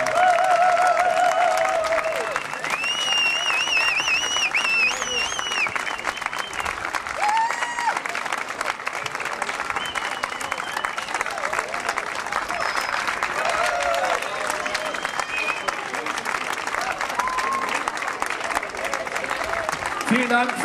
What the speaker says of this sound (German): Der Applaus für das Bundesjugendjazzorchester, meine Damen und Herren.